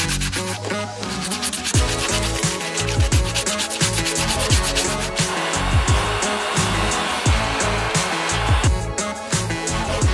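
Steady, close power sanding along the beveled edge of a Rocket Bunny body kit piece, a loud continuous abrasive rasp with rhythmic scrubbing strokes and no talk.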